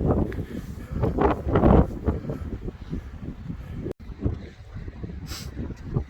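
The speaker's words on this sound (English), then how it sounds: "It's a bit windy" Steady wind buffeting the microphone at Boddin Point on the Scottish coast, a loud rumbling roar with gusts that rise and fall throughout, outdoors with no voices.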